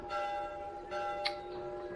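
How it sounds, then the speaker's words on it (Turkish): A church bell in Assassin's Creed rings with long, sustained tones that overlap and hum on, steady and moderately loud, with no talking. "Yok, burada sadece çan sesi var."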